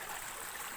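A village water stream flows in a steady, soft rush, brief and unbroken, with no voices.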